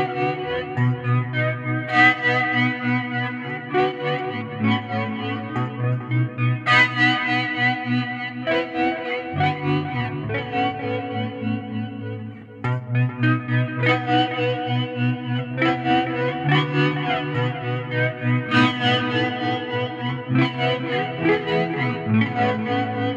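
Electric guitar through a Hotone Ampero Mini multi-effects unit with a reverse delay, sustained chords swelling and smearing into one another in a dense, steady wash with a single brief dip about halfway; no talking.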